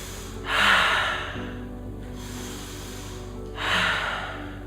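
Slow, deep breaths during a yoga session: two long airy exhalations heard up close, with quiet stillness between them.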